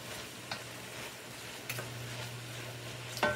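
Onions and garlic frying in hamburger grease in a pan, with a steady low sizzle and a few light utensil clicks and scrapes on the pan; no voices.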